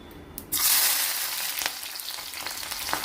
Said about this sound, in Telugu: కొద్దిగా పచ్చిమిరపకాయ, ఉల్లిపాయ వేస్తున్నాను.